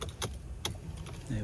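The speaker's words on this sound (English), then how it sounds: "Switch ignition on." Ignition key turned on in a Mercedes C200 Kompressor: two quick, light clicks of the key in the switch, then a soft low hum from the car, close and fairly quiet.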